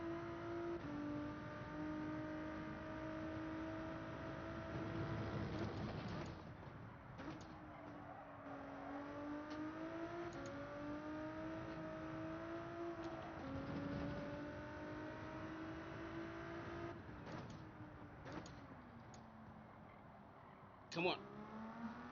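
Ford GT engine in Gran Turismo 7 during a race, a faint revving drone that rises and falls through gear changes, with a sharp thump near the end and a person talking over it.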